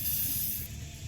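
Cleaner sprays onto a 2000 Ford Ranger wheel hub during a hub bearing assembly change: a short, steady, loud hiss of aerosol spray lasting about a second, close up, with no talk.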